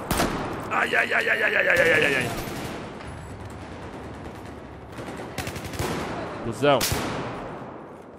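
Gunfire from the video game Battlefield 1 rattles in bursts, loudest early on, with a sharp shot near the end, while a player shouts and talks over it.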